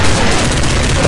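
Loud, rapid gunfire fills the whole moment of a Counter-Strike Online match, a dense barrage of shots.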